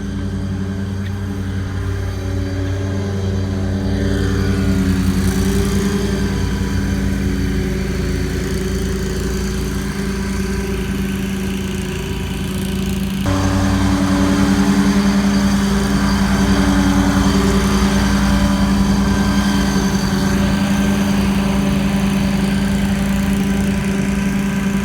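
A Walker riding lawn mower with a 42-inch cut runs steadily at a college grounds, its engine giving a continuous close droning hum with a slight rise in intensity partway through and no talking.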